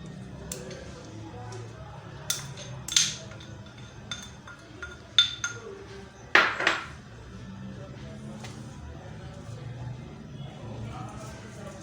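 Vegetables with shredded cabbage, carrot and onions being tossed in a bowl, giving scattered clinks and knocks of utensils against the dish over a low room murmur.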